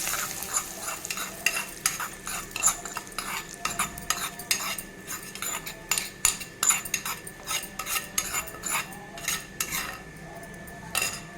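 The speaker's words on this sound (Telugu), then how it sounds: "ఇంకోటండి, పోపు ఇందులో కలిపిస్తాను." A spoon stirs a sizzling tempering into coconut milk porridge in a metal pot, producing rapid, irregular scraping and clinking strokes over a soft background sizzle, close up with no talking.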